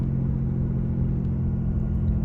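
A RAM 3500 pickup truck engine-brakes down a steep hill, rumbling steadily at low pitch with a smooth, continuous drone, heard close with no talking.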